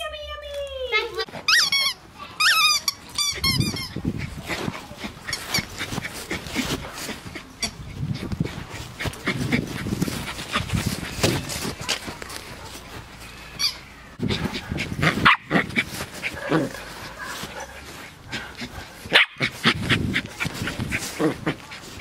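Dogs at dinner time squeak and bark in short bursts through a busy stretch, mixed in with children's voices and other talk going on nearly the whole time.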